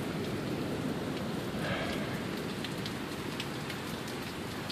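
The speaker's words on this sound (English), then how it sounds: "monsoon-like sheet of rain." Heavy monsoon-like downpour in Sioux Falls, a dense, steady roar of rain pounding surfaces with scattered sharper drop hits, loud and continuous with no voices.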